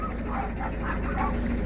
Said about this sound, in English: Can hear the dogs.